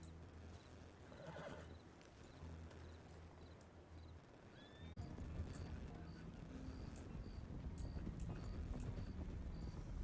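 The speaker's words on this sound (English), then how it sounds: "I hear horses." Horses in the Red Dead RedM roleplay game whinny and clop their hooves nearby, the hoofbeats getting louder partway through over steady background noise, with talk faintly mixed in.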